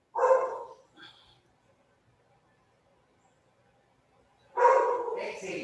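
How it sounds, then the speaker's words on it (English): A dog barks twice near the start, a short pause, then a longer burst of barking at the end, fairly close and loud. "your dog's barking."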